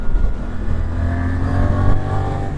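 A motorcycle engine on a test ride, either a Suzuki GSX8-S or a Yamaha MT-07, a steady loud droning hum with a slight swell as it pulls, close to the rider and alone without talk.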